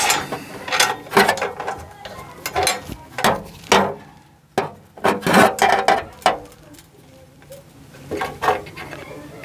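Ratchet wrench turning a 17 mm bolt on a Citroën C3 exhaust mount, giving close, repeated bursts of clicking in short irregular strokes, with brief pauses between them.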